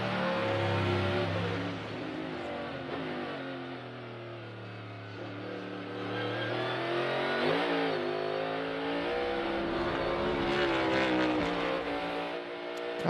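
A 2022 NASCAR Cup Series race car on a qualifying lap roars loudly and continuously, its engine pitch swelling and dipping as it moves through the lap, with no talk over it.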